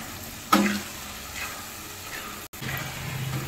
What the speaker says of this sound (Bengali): এইভাবে ঘিটা দেওয়ার পরে 5-7 মিনিট একটু ভালো করে রান্না করে নেব গাজরটাকে